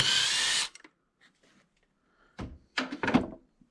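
A power tool whirs loudly for a moment while removing the rear bolt of the power steering pump on a Subaru EJ25 engine, then stops, followed by scattered clanks and knocks of tools and metal parts close by.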